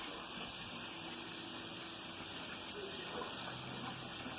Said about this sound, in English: I'm gonna drain the water just a little bit.